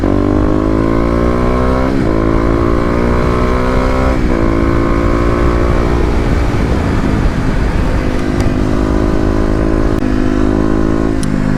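A Kawasaki KLX250 motorcycle geared with a 13-tooth sprocket accelerates through city streets in wet weather, engine revs climbing in repeated rising sweeps between gear changes, loud and close with wind rush, no talk.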